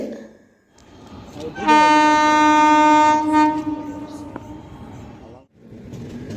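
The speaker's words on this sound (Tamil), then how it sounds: "ஸோ ட்ரெயினும் வந்தாச்சு" Train pulling into a station on an Indian railway platform, its long loud horn blaring for about two seconds over a rumbling engine and wheel noise, with crowd murmur and voices around it.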